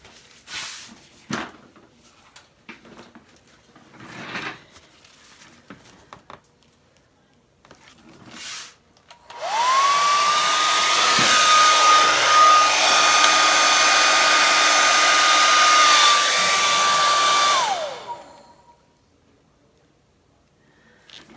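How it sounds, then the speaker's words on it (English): A hair dryer blowing acrylic paint across a Dutch pour painting switches on after quiet handling noises, then runs as a steady loud whoosh with a whining tone for about eight seconds before cutting off. "there is a difference when you do it with a hairdryer"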